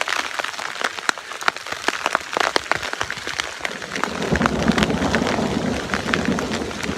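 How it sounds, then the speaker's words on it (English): Hail rattles down onto a tarp on a backpacking trail, a dense, continuous patter of sharp ticks that thickens into a heavier roar partway through, steady and close. "that's hail. It's coming down on the tarp right there."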